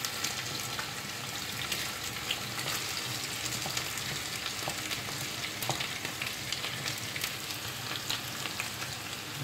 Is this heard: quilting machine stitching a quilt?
no